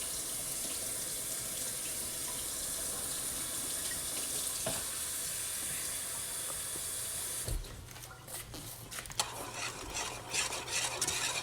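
Sugar mixture stirred in a pan on the stove, a continuous hissing, bubbling wash that drops away partway, followed by softer scraping and clinking stir sounds, close and without talk.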